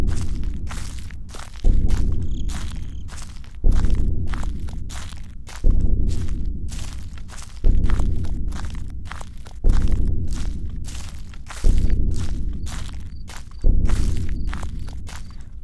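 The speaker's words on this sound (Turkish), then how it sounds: "Ay şu ayak sesi de çok sinirimi bozduruyor." Footsteps in the horror video game Slender: eight heavy, crunchy steps at a slow, steady pace, about one every two seconds, each loud and close with a short fading tail, and no talking.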